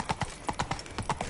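Roach the horse from The Witcher 3 clip-clops at a walk, about nine crisp, close hoof strikes in an even rhythm, with no other sound competing.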